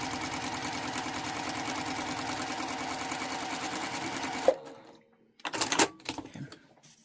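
A sewing machine stitches fabric at a fast even clatter for about four seconds, then stops, followed by a few brief handling noises.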